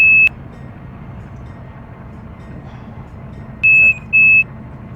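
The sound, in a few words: train cab alarm beeping in Run 8 train simulator game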